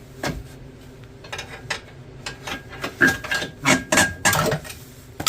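A bar pries a worn control arm out of a Hyundai Sonata, producing a close series of irregular metallic clanks and knocks that grow louder toward the end, with no talking.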